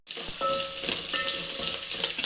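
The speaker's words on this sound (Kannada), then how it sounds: "ಬೆಳ್ಳುಳ್ಳಿ ಜಜ್ಜಿ ಇಟ್ಕೊಂಡಿದ್ದೀನಿ ಅದನ್ನು ಇದ್ದೀನಿ ಮತ್ತು ಕರಿಬೇವಿನ ಸೊಪ್ಪು ಇದೆಲ್ಲ ಚೆನ್ನಾಗಿ ಒಂದು ನಿಮಿಷ ಫ್ರೈ ಮಾಡಬೇಕು" Crushed garlic, chillies and curry leaves frying in oil for rasam, a bright continuous sizzle that starts abruptly and stays close and steady, with faint clinks of stirring and no speech.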